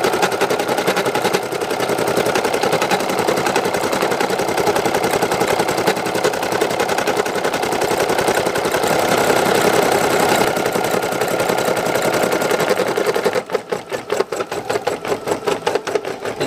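A Money Maker 1900 embroidery machine stitches a satin stitch border with a loud, rapid, continuous mechanical chatter that holds steady before shifting to a choppier pulsing rhythm near the end.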